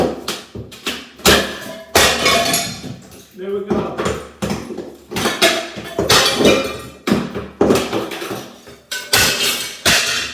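Repeated hard knocks and clattering thuds of hammering tiles off a bathroom wall, with scraping and falling debris, under occasional short speech.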